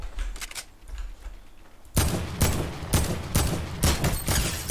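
Rapid gunfire from a player in a video game, a quiet scatter of shots followed by a loud burst of repeated bursts, each one sharp and close.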